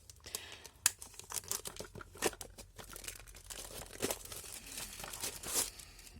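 Plastic packaging of a watercolour palette being crinkled and torn open, a run of close, quiet rustles and crackles with scattered sharper snaps.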